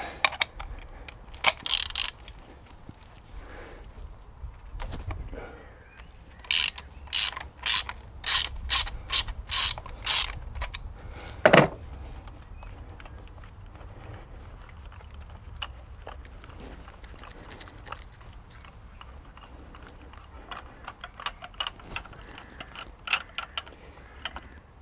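A ratchet wrench with a 16 mm socket clicks in quick bursts while spark plugs are removed from a Renault Laguna 3, short rapid ratcheting runs separated by pauses and light tool handling, close and clear.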